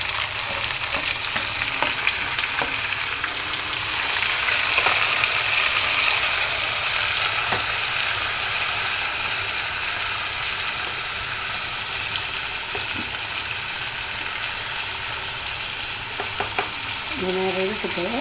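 Vegetables sauté and fry in ground gravy in a pan, giving a steady, dense sizzle throughout with occasional scraping stir sounds up close and no talk.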